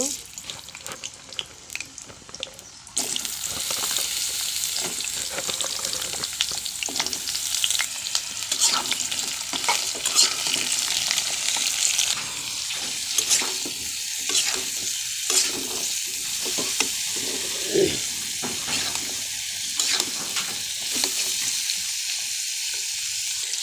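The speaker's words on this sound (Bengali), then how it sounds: "এই পটলগুলো আগে ভেজে নিব।" Pointed gourds (potol) frying in oil in a pan, a loud continuous sizzle that starts abruptly and carries on with stirring scrapes and occasional clinks, a voice briefly heard in the background.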